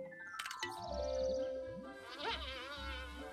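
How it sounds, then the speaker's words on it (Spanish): In the video game Viva Piñata, a fly buzzes with a wavering, warbling drone that follows a bright chime, all fairly soft with light game music beneath. "¡Ay, la mosca!"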